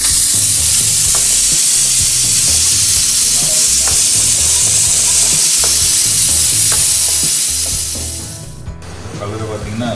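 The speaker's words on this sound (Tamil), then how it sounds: "தக்காளி வெங்காயம் நல்லா வதக்கிடுச்சு" Tomatoes and onions sautéing for channa masala, a loud, continuous sizzle with rhythmic stirring and scraping up close, easing off near the end.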